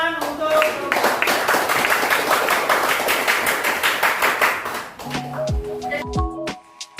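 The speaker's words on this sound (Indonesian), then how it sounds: "Tepuk tangan untuk kelompok" A classroom of students claps for a presenting group, brisk rhythmic hand claps for about five seconds that fade out into quieter room noise and a few tones.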